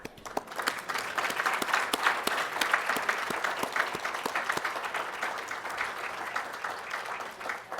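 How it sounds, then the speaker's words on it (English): Sustained applause from a luncheon audience honoring law school scholarship recipients, a dense, even wash of many hands clapping that holds steady throughout. "So you're going to get a round of applause"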